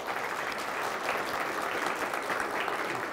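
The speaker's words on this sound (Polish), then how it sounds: "więc ja bym po prostu poprosił brawa dla Ani." A conference audience in Kielce applauds Ania, a steady wash of clapping from many hands that holds evenly throughout without any speech.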